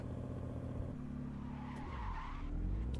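A car in the mobile game Gran Criminal Online skids on its handbrake. The tire screech is drawn out and rides over a low, steady engine drone, and the engine pitch shifts as the skid goes on.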